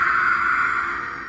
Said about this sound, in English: That terrifying scream.